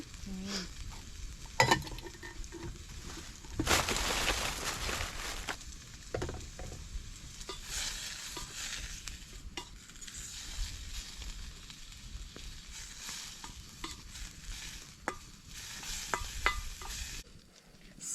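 Turmeric leaves are stir-fried in a hot pan, a continuous sizzle with bursts of louder frying and intermittent scraping stirs over a long stretch, no voices.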